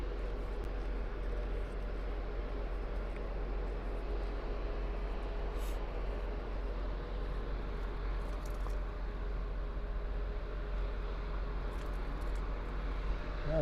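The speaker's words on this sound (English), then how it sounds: "It's Caribbean Airlines going to Kingston." A Caribbean Airlines airliner at Toronto Pearson airport on a calm, hazy day produces a steady, distant engine roar and rumble that holds evenly throughout with no pauses.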